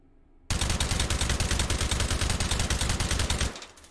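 Rapid automatic fire from a suppressed H&K G36C carbine in the H3VR virtual reality shooter: a fast, even stream of muffled shots lasting about three seconds, loud and close, with no talk over it.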